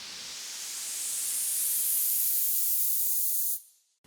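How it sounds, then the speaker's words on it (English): A noise riser sample from a sample pack for an Afro house track: a loud, steady wash of white noise that swells and brightens over about three seconds, then cuts off abruptly, with no voices. "Then I've got this noise riser,"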